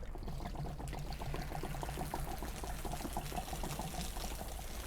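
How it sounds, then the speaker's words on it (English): Water drains from an Atwood RV hot water heater tank, a steady continuous pouring and splashing flow close by with no talk over it. "To make it drain faster, come up and lift up the pressure valve."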